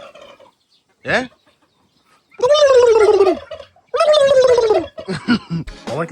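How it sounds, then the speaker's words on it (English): Several turkeys gobbling on a farm, loud warbling calls in bursts close by, with a short squawk and quieter clucks between them. "Look at the turkeys."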